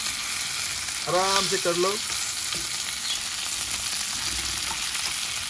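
Crab rava frying in a pan gives a steady, close sizzle throughout, with a short spoken phrase near the start.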